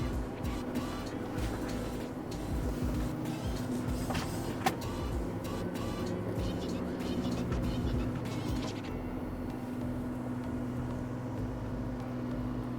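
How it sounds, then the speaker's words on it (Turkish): Valtra S 416 tractor engine braking heard from inside the cab, a steady low drone with mechanical whine and rattles holding at constant loudness throughout. "Şu anda motor freni yapıyor kendi."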